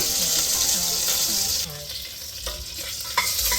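Cumin seeds and curry leaves sizzle in hot oil with a bright, steady hiss and spattering crackle, followed by quieter stirring scrapes and small clinks in the pan.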